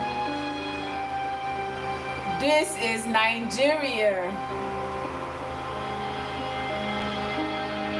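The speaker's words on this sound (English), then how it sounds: "and also generator noise" Generator running noise in Nigeria, a steady droning hum with tonal harmonics that continues throughout the clip, with a voice briefly speaking over it.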